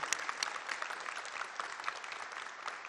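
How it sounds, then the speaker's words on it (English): Audience applause at a university convocation, a steady wash of many hands clapping with distinct sharp claps poking through, fairly quiet and even throughout with no voices on top. "You need to give them a round of applause"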